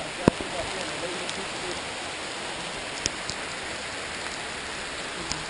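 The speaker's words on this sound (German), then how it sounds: "Boah, da kommt der Regen gelaufen." Rain falls steadily outdoors in a dense, even hiss, with occasional louder drops tapping close by on a surface.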